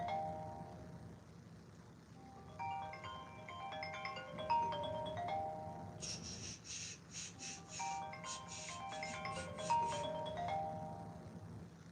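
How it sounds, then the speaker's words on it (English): A phone rings with an incoming call, a repeating electronic melody of bright beeping tones, fairly faint, with sharp chirping bursts joining it midway. "that's a phone call right here from me"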